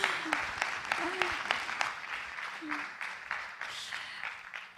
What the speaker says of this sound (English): Yeah, we can give a round of applause.